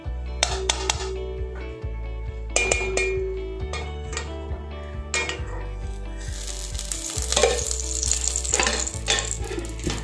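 A spoonful of ghee heating in a pan for carrot halwa, giving a steady close sizzle with occasional clinks of utensils, loud and continuous, with a low hum underneath and no talking.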